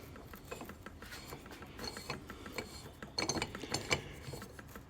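The gear motor inside a rotary pop-up part-circle sprinkler spins continuously, giving a fine close ticking and ratcheting clatter with small metallic clinks, fairly quiet and uneven.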